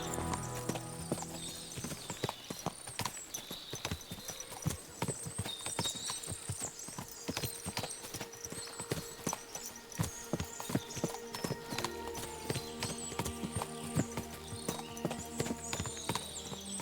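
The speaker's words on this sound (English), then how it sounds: "What a lot of horses!" Many horses trotting in the video game Kingdom Come: Deliverance II, a dense clip-clop of hooves with jingling tack and an occasional whinny, steady and moderately loud, with faint voices now and then.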